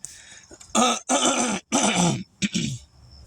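A person with a head cold coughs and clears their throat in several harsh bursts, close and alone, with short pauses between them and a final weaker cough.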